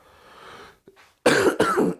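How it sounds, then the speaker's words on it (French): A single harsh, close cough splits into two bursts after a brief quiet pause, preceded by faint background murmur. "Excusez-moi, je tousse."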